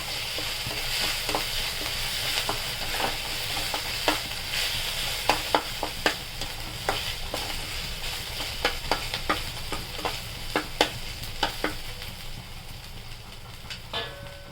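Oil sizzles steadily in a pan, a constant close hiss dotted with sharp crackles and pops, while occasional utensil scrapes stir the contents.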